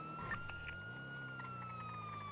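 A police car siren from a GTA V roleplay game holds a steady electronic tone with a low engine hum underneath. It plays continuously at moderate loudness with no talk over it.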